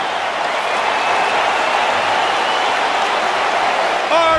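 A capacity crowd at a kickboxing event roars and applauds in a sustained, dense wash of cheering that holds steady throughout, with a louder swell right at the end.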